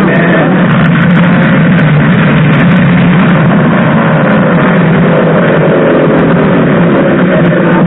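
Old Polaris snowmobiles idle and rev together at a race start line, a loud, steady, droning engine roar that fills the whole stretch with no pauses.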